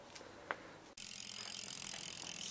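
A derailleur on a recumbent trike clicks faintly a couple of times, then a loud sustained ratcheting whir of the gears and freewheel sets in and runs to the end, close to the microphone.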